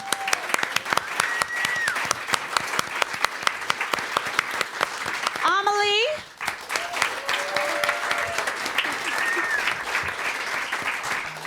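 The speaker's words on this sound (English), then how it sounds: "So another big round of applause" Sustained applause from an audience, dense clapping throughout, with a brief whistle-like tone and a short dip midway. One word is spoken.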